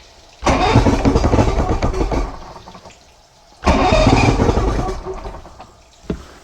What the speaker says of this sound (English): I had it quite pumped up with the bulb